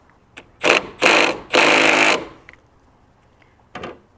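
A power tool loosens the strut center bolt on a Nissan 300ZX, three loud close bursts of whirring and rattling, the last a bit longer, then quiet with faint clicks and a brief final buzz.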